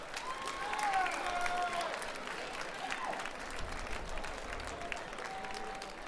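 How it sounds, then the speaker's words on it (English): Applause for Mr. World Jimmy Harden at a fitness challenge event in Petaluma, California, a steady round of clapping from a crowd lasting several seconds, with a voice briefly audible under it. "please give a warm round of applause to Mr. World Jimmy Harden"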